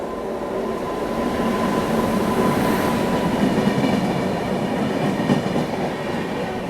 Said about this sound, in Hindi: फिलहाल सामने से कोई तो ट्रेन आ रही है